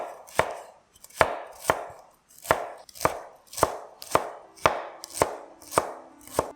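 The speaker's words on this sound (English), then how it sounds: "Cut up the white parts of the spring onions" A knife chops through the white parts of spring onions on a board in about a dozen evenly spaced, crisp thuds, close and clear with no voices.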